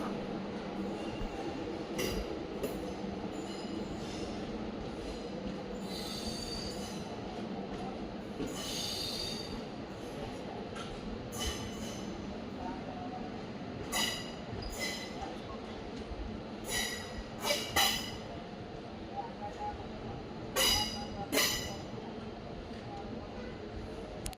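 A passenger train from Cuddalore Port to Mysore stands at platform 4 of Ashokapura railway station, with quiet carriage rumble, intermittent wheel squeals and metallic clinks, and faint voices in the background.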